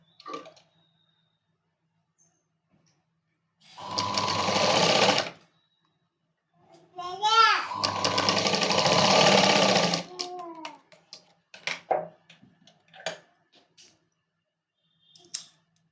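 Sewing machine running in two bursts while stitching a princess cut blouse, each a steady whirring hum lasting a second or two, followed by scattered light clicks and handling taps of fabric.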